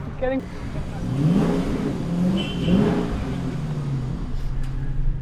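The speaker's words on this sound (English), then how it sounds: "driving around the world in his American muscle car" An American muscle car's engine revs and rises in pitch in steady, accelerating sweeps, heard under a voice speaking in the foreground.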